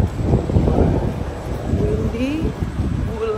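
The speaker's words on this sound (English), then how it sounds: "This morning windy banget." Gusty wind buffets the microphone in a steady low rumble while a person speaks nearby, on a windy morning in Melbourne.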